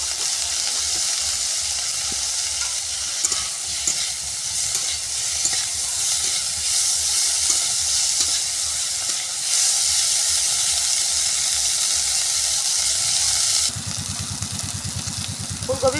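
Steamed cauliflower, salted, fries in a pan with a steady, loud sizzle and occasional stirring, the frying tone shifting and dropping slightly near the end.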